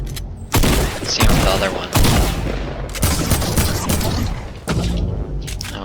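Rapid bursts of gunfire from shooting at an object in Fortnite Creative, several loud clusters of shots in quick succession with short gaps, and a voice speaks briefly over them.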